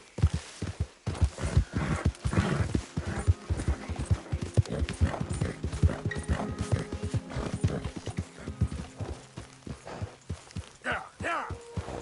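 A horse gallops in a video game, quick rhythmic hoofbeats pounding close and steady under background music and snatches of voices.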